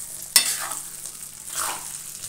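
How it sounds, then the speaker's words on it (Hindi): Kachnar buds being mixed into hot spiced oil for a Himachali pickle, one sharp metallic clink followed by soft scraping stirs over a constant hiss of frying, close and moderately loud. "अब हम इसमें ऐड कर देंगे अपनी कचनार, ये देखिए, और इसे अच्छे से मिक्स करेंगे पूरा।"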